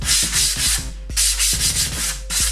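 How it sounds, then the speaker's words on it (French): Edge banding on a furniture panel corner being sanded with a sanding block, in short, loud, close rasping strokes in a quick rhythm, with no speech. "Idéalement, on passe un petit coup de cale à poncer."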